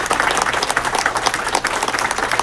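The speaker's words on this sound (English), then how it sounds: "So let's give them a big round of applause." A city hall audience gives a round of applause for city employees. The clapping is brisk and continuous from start to finish, loud and close, with no talking over it.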